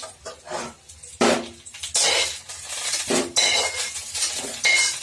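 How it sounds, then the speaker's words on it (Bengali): Fried potato pieces being lifted out of a karahi of oil into a plate, with a metal spoon scraping and clinking against the pan and dish in irregular bursts, close and fairly loud, over a faint sizzle. "এই পাটির মধ্যে আমি ভাজা আলুগুলো তুলে নিচ্ছি"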